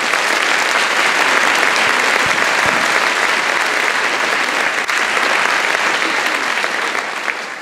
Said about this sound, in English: Let's give Raising Resilience a big round of applause